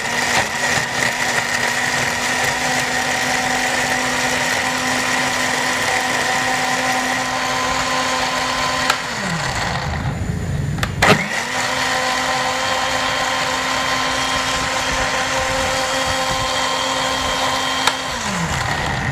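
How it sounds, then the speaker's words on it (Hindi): A kitchen blender whirs steadily while blending chillies, a loud, even motor drone that cuts out briefly midway and then starts up again at the same pitch. "तलहार मिर्च को हमने ब्लेंडर में डाल दिया एंड इसको अच्छे से ब्लेंड कर लिया"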